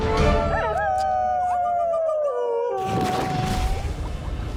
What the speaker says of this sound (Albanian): Unë e dëgjova atë ulërim të egër.